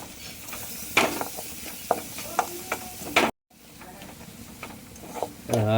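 Chopped garlic and onion are stirred and sautéed in a pan for pasta, with soft frying sizzle under intermittent scraping and tapping of a utensil, a brief dropout midway.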